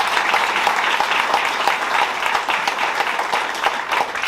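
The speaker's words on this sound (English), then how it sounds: "I would ask that you give them a round of applause" An audience at a public-private partnership press conference applauds donors with steady, full clapping that continues evenly throughout, close and fairly loud, with no speech over it.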